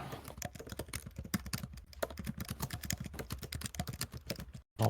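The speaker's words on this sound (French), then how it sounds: "J'entends un clavier." Computer keyboard typing, quick irregular key clicks close by, continuing in bursts with a brief pause near the end.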